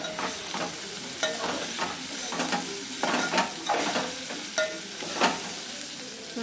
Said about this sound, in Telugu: ఆ రోజు జగిత్యాల మార్కెట్లో తెచ్చుకున్న క్యాప్సికమ్ ఇవన్నీ ఇక వండుకుందామంటే తీరలేదు. ఈరోజు వండుతున్నాయి.